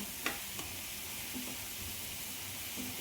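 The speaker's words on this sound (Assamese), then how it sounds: "এইখিনি মই অকণমান সময় ভাজিছোঁ ইয়াৰ পানীটো শুহি গৈছে পানী নাই" A fish dish mixture fries in a pan with its water cooked off, giving a faint, even sizzle broken by a few soft clicks of stirring.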